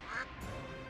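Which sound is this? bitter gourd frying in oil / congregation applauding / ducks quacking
ducks quacking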